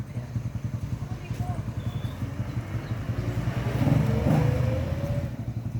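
A carbureted Suzuki Raider 150 motorcycle engine idles in a steady, rapid low putter, then revs up briefly and settles back down, close by.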